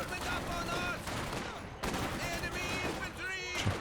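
A ZiS anti-tank gun fires during a Company of Heroes 2 battle, sharp gunfire bursts sitting inside a busy wash of battlefield noise while a commentator talks over it throughout.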